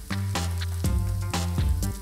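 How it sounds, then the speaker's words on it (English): Cashews and vegetables with spring onions stir-frying in a hot wok give a steady sizzle and frying crackle, with a few louder bursts as the ingredients are tossed against the metal, close and continuous. "Make sure that all the ingredients come into contact with the hot base of the wok by stir-frying them."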